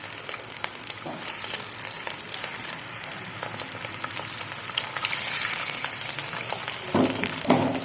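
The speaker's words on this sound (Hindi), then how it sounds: "चिकन को हमने तकरीबन 5 से 7 मिनट भूनना" Chicken pieces fry in masala in a pot for a degh-style shahi chicken korma, giving a steady close sizzle and crackle with occasional stirring scrapes that grow louder near the end.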